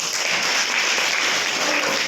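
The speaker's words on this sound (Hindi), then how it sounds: "चलिए इनके जोरदार ताली बजाइए।" Loud, steady applause from a class of schoolchildren fills the whole stretch, dense and continuous with no talking over it.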